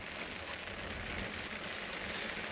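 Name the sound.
heavy rain falling on truck camper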